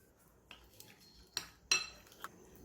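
A spoon scrapes and clinks against a bowl while maida flour and water paste is mixed, a few sparse, quiet metallic taps and scrapes with soft pauses between them, close by.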